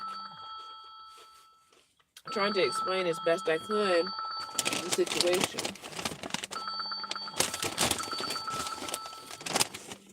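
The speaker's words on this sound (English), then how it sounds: "that's my brother right now trying to call me on the phone" An incoming call rings on a telephone, its repeating electronic tone running underneath a person talking nearby.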